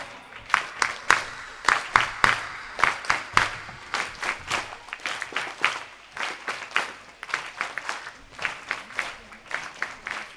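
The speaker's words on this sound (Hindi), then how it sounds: "अभी ताली में जान नहीं है।" An audience at a children's prize distribution in Surat claps in repeated rhythmic bursts, the applause rising and fading in waves, fairly close.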